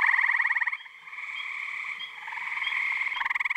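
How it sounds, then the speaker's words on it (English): Large chorus of frogs calling loudly together at a breeding site in Connecticut, with dense pulsing trills and croaks overlapping without pause. "There may have been hundreds or thousands of frogs, all singing as loud as they could."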